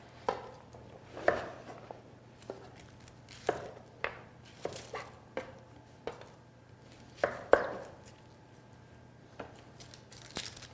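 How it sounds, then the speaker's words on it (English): Knife slicing small red onions on a cutting board in a kitchen, a steady series of about a dozen sharp, close chops at an irregular rhythm, with no talking. "So I'm going to slice up the red onions."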